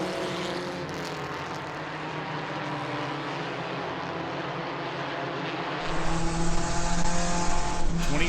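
UCAR race cars roar down the straightaway at Langley Speedway, engines droning steadily, then the sound swells louder and brighter near the end as cars sweep closer past the listener.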